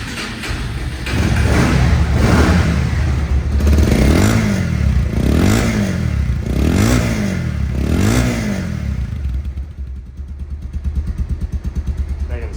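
A Bajaj Pulsar ABS motorcycle, second hand and about two months old, runs close by with a loud engine drone and rhythmic revs that rise and fall several times before settling back to a steady idle.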